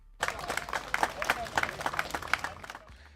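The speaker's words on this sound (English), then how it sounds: "Slightly better, slightly louder applause." A canned applause sound effect triggered from a button during a live stream starts abruptly as a short burst of crowd clapping, then cuts off after about three seconds.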